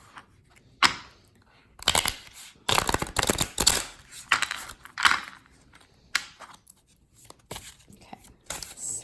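Tarot cards being shuffled by hand in a series of close, crisp riffles and card slaps, with irregular pauses between bursts and no talking.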